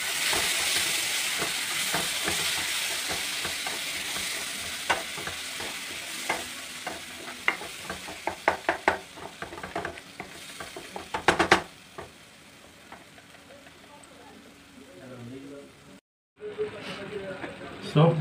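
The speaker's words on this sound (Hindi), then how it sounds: "देख रहे हैं हमारा जो टमाटर है मसाले के साथ अच्छे से भुन गया है" Tomato puree fries with spices in a pan, hissing and sizzling steadily, with repeated scraping from stirring and the spoon clacking against the pan. The sizzle is loud and close, and a person speaks over it.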